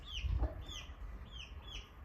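A chicken on a farm makes a few faint, high chirping clucks at a steady pace over a low background rumble, distant and quiet.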